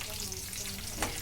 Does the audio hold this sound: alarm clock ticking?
no